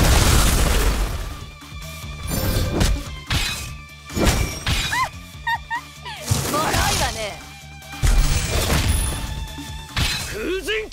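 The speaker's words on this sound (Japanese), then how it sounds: "ミサイル発射。" A missile launch and explosions in the video game One Punch Man Road To Hero, heavy booms and crashes layered over game music and character voices throughout, loud and dense with repeated impacts.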